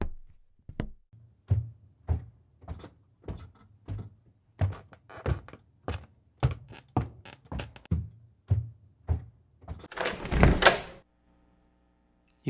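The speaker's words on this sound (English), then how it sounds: "You climb the stairs and open the door." Series of dull wooden knocks and thunks repeating roughly every half second, ending in a louder rattling clatter as a door is opened, then quiet; close and fairly clear.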